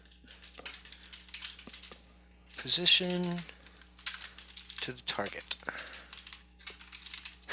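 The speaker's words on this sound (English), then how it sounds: "Sorry for my bad typing" Typing on a computer keyboard while writing a camera-movement script in Unity: a quick, uneven clatter of close key presses in bursts, with someone talking over part of it.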